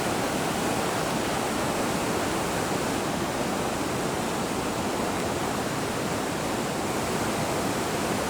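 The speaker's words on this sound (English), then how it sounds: "Here's a view of the water rushing by." High creek water after Hurricane Ida rushes past a damaged state park campground, a steady, loud broadband roar that holds unchanged from start to finish with no voices.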